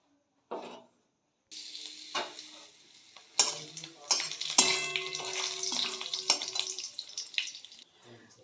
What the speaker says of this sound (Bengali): এবার আমি ফোড়নগুলোকে দিয়ে দেবো। গোটা জিরে, শুকনো লঙ্কা, একটু হিং আর দুটো তেজপাতা